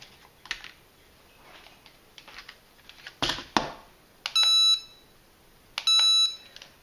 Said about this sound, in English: Push it once, it beeps, they turn off. Push it again, it beeps, and they flash.